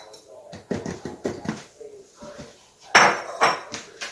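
Brown sugar and cinnamon being mixed into flour in a bowl for oatmeal cinnamon raisin sourdough bread, heard as a series of scraping, clinking knocks of a utensil against the bowl, with a louder burst of scraping near the end.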